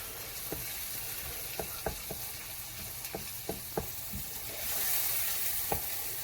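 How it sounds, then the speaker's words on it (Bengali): Garlic and ginger paste being stirred into hot oil for a homemade hot chilli pickle: a steady sizzle and hiss under a scattering of sharp spoon taps against the pan, close and fairly faint, with no talking. "তেলের মধ্যে ভালো করে মিক্স করব রসুন আর আদা বাটাটা"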